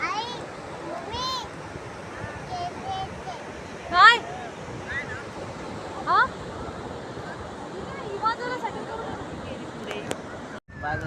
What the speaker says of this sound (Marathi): आम्ही बीचला आता मस्त पोचलो आणि खूप छान असा बीच आहे